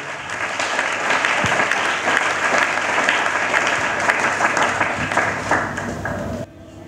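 A church congregation applauding, sustained dense clapping from a large crowd that holds steady and then cuts off abruptly near the end.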